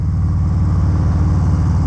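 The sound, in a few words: 2019 Harley Davidson Low Rider Milwaukee 8 107 V-twin engine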